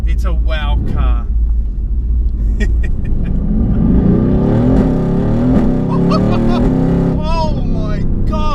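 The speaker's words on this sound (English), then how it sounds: "Oh my god, that acceleration!" A 2018 Mercedes AMG GT R engine builds from a low rumble into a rising, loud revving surge heard from inside the cabin, with an excited voice talking over it throughout.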